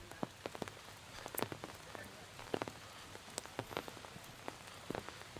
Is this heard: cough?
no